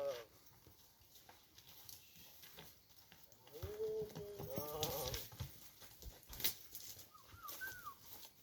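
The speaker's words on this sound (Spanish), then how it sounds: "Ven a ese caballo que vamos." Horse hooves clip-clop on a Roman paved road on rocky slopes, with a few irregular steps close by, while people speak over them and a bird calls.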